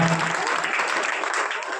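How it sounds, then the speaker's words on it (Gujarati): An audience at a primary school prize ceremony claps loudly for the youngest pupils, a dense and continuous burst of applause close by. "જોરદાર તાળીઓથી આપણે વધાવશું."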